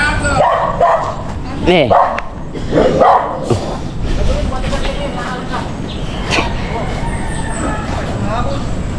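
A dog barks and yips in short bursts near a loud outdoor scene, with people talking over it.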